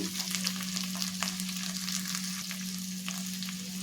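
Cluster beans frying uncovered in an open pan, a soft continuous sizzle with light crackles and a few faint stirring taps, over a low steady hum.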